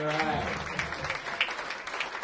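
Audience at an executive management training session claps in a dense patter, steady and fairly close, with a voice speaking over the applause.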